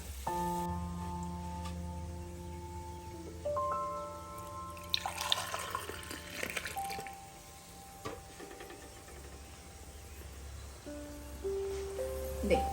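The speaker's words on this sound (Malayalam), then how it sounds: "ആ ചിക്കന്റെ സ്റ്റോക്ക് അത് നമുക്ക് മെഷർ ചെയ്ത് ആ സെയിം കപ്പിന് തന്നെ നമുക്ക് മെഷർ ചെയ്ത് നമുക്ക് അളന്ന് ഒഴിച്ചു കൊടുക്കാം" Chicken stock is poured into a pot for Arabic chicken mandi, giving a splashing, trickling pour through the middle of the clip over steady background music.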